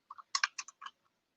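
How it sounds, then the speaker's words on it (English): Quick bursts of typing on a computer keyboard, a handful of close, crisp key clicks in an uneven rhythm with short pauses between clusters, heard alone. "You can join the ASMR from my keyboard."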